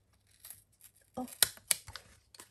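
Scissors snipping card during card making, a few quick crisp cuts close up with light paper rustling between, quiet and brief.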